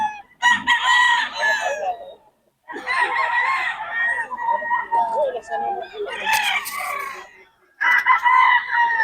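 Several roosters in Bocaue crow loudly in repeated bursts with short gaps between them, mixed with clucking from nearby fowl.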